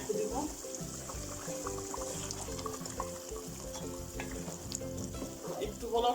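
Greens being stirred into a simmering beef and potato curry, a continuous bubbling sizzle with scraping spoon strokes and occasional clinks throughout.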